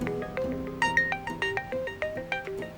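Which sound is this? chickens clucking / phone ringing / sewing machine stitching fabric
phone ringing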